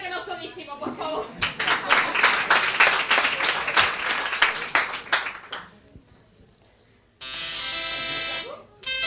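Applause from a talk audience at a conference session in Valladolid: a dense burst of many hands clapping for several seconds before fading out, then a loud, steady electronic buzz cuts in near the end.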